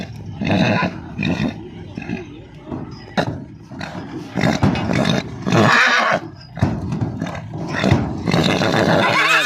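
A horse neighs loudly and close by, several whinnying bursts with snorts between them, and a little talk in the background.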